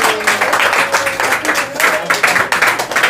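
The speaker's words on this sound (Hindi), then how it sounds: "जोरदार ताली बजाइए आप लोग।" An audience at an award distribution ceremony claps steadily, a dense, loud patter of many hands throughout, with a voice faintly mixed in.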